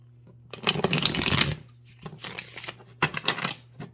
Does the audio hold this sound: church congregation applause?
no